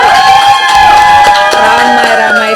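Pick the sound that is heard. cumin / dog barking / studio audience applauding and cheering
studio audience applauding and cheering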